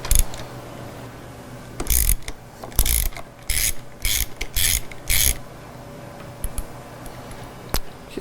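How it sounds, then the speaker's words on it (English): A hand ratchet loosens a 19mm swing arm hex nut during rear shock removal, with several short, crisp bursts of rapid clicking separated by pauses, close by over a faint background hum. "Now I'll go ahead and loosen the swing arm nut"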